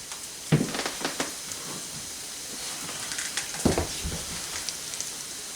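Beer poured into a hot pan to deglaze it while cooking Scotch collops with mushrooms and gravy, a steady hiss of sizzling broken by sharp crackling spits and pops, close and moderately loud.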